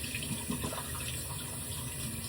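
Warm water runs from a tap onto a washcloth in a sink, a soft, steady splashing hiss that stays quiet and even throughout, with no talking.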